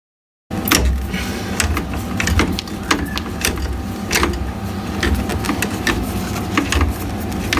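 Mechanical rattling from a plumbing pump runs steadily with rapid clicking and ticking bursts over a constant motor drone, close and fairly loud, with no talking.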